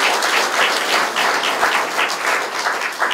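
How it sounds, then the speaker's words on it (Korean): A hall full of attendees at a Democratic Party central committee meeting breaks into sustained, dense applause, steady and loud throughout with no talking. "우리 모두 자축의 박수 한번 크게 한번 하고 싶다고"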